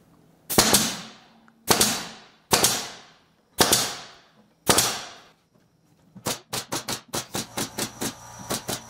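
Five separate sharp pneumatic pin-nailer shots pin down a wooden part for a 1-1/2 inch scale, 7.5 inch gauge caboose, followed by a rapid run of about a dozen quicker, fainter clicks, close and with no talking.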